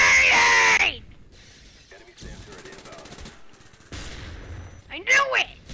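Gunfire in Call of Duty Black Ops 1 multiplayer, with rattling bursts and shots scattered through a noisy match, mixed with sharp tonal game effects and a raised voice.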